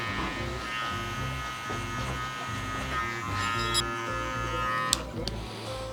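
Hair clippers fitted with a one-guard attachment buzz steadily while trimming hair during a mid-bald fade, with the motor droning up close and its pitch shifting slightly as the blade moves through the hair.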